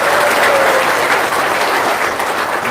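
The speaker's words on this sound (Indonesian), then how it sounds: "Tepuk tangan dong. Yang keras tepuk tangannya." Loud, dense applause from a large audience at an evening talk and testimonial event, steady and sustained with no voices over it.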